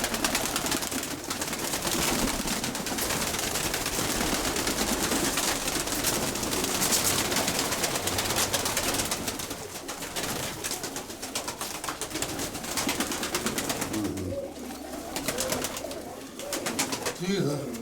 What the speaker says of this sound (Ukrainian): Да, голуби, рябогорлые, светлые, рябые.